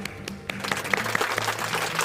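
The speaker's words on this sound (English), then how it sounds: "So a big, big round of applause to the entire team at CREDAI-MCHI." Applause from an audience at a real estate association's ceremony starts with a few scattered claps and swells into a fuller, steady round from the crowd.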